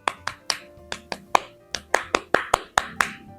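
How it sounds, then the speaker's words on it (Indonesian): Indonesian scout clapping rhythm (tepuk pramuka): a dozen or so sharp, close hand claps in a syncopated pattern, with quick pairs and triplets building toward a steadier run at the end, and no talk. "Tepuk pramuka."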